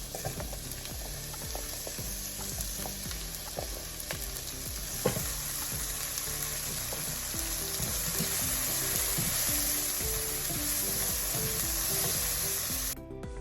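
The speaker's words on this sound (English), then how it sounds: "then let's saute our chopped garlic. Then add our mushroom." Chopped garlic and mushrooms sizzle steadily in butter in a pan, a loud, continuous frying hiss with occasional scrapes and pops throughout.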